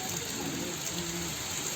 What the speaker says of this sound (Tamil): இப்போ கூட மழை பெஞ்சிட்டு தான் இருக்குது